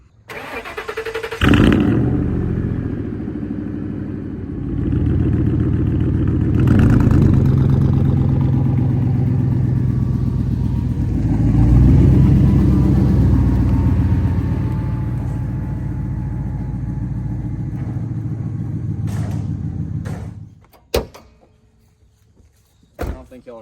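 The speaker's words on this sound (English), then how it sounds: "So I'm gonna go grab a hot battery, get Larry out of the way, and let's see, will this thing crank up" An old truck engine cranks, catches and revs hard in long surging bursts for about twenty seconds before cutting off with a sharp clunk, all up close and loud.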